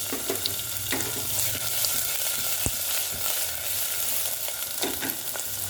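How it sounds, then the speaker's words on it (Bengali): Onion and a dried red chilli frying with a bay leaf in hot oil for a Bengali drumstick, potato and eggplant curry, giving a steady, close sizzle with occasional stirring scrapes and no talk. "লঙ্কাটা একটু ভাজা হয়ে গেল, তো এটা পেঁয়াজটা দিয়ে দিলাম।"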